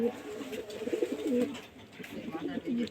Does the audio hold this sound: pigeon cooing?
yes